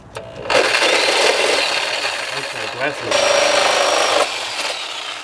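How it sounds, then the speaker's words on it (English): A reciprocating saw cuts through rusty running boards on a 2002 Chevy Astro van, a loud, steady buzzing roar in two long bursts with a short pause between them. "all I'm going to do is cut them as close as I can with the Sawzall"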